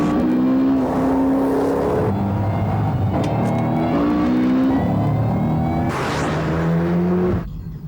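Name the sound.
car accelerating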